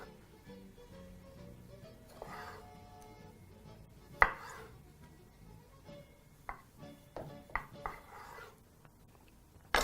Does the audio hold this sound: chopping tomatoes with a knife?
yes